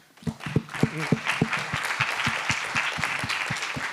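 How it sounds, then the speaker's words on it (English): Audience applause for the panelists at a summit panel on MPC, ZK, FHE and TEE, with sharp distinct claps at first thickening into steady, moderately loud clapping from the room. "we'd love to give our panelists a round of applause"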